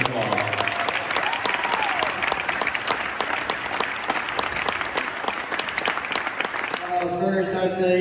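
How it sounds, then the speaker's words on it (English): A community crowd applauds a Michigan state champion team at a celebration, with loud, sustained clapping and some cheering, and a voice begins speaking as the applause ends. "Give them a round of applause."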